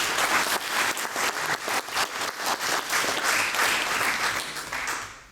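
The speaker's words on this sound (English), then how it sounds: "That's an applause." Audience applause at a political campaign event, a crowd clapping in strong rhythmic bursts that swell and then fade out toward the end.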